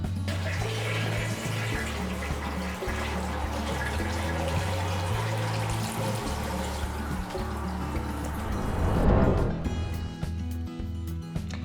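Water runs steadily from a hand-wash tap on top of a Japanese toilet tank as the tank refills after flushing. The stream gurgles with a steady rush, swells briefly near the end, then settles. No one speaks.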